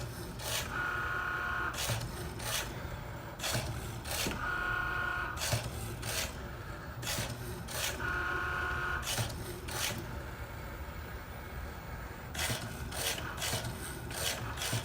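A Cricut Maker cuts fabric with a steady mechanical whir broken by repeated short scraping passes and motor pulses in a fairly regular rhythm, close and moderately loud.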